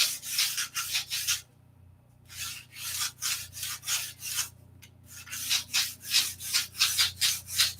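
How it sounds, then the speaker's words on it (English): Balsa wood is rubbed with 180 grit sandpaper in quick rhythmic back-and-forth strokes, close and fairly quiet, with a couple of short pauses between bursts of raspy scraping. "this is a 180 grit sandpaper. We're just, you hear it singing?"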